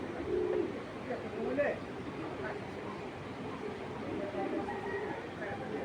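Fancy pigeons coo softly in a loft, low throaty calls repeating now and then beneath someone talking nearby.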